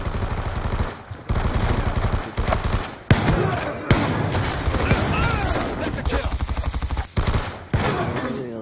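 A light machine gun fires in long, dense automatic bursts during a hardpoint match in a multiplayer shooter. The bursts are loud and sustained with a few short gaps, and players talk over the gunfire.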